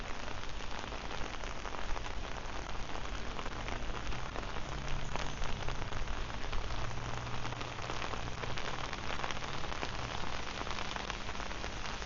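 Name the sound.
rain falling during a walk in Phuket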